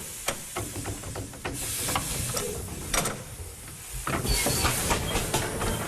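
An old steam roller named Hercules, brought back from salvage, hisses as steam enters her pistons for the first time in over ten years, with bursts of hiss, clanking mechanical knocks and ratcheting sounds rising and falling unevenly.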